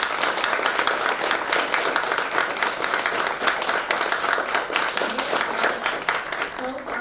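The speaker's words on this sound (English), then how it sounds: "Can we please have another round of applause for this team?" A showcase audience applauds a student media team, steady dense clapping that holds for several seconds at an even level, with faint voices mixed in.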